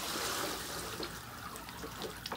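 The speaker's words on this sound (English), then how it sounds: "So Santa triple washes" Water trickling while bay leaves are washed, a faint continuous running stream with small splashy flickers, heard alone and close.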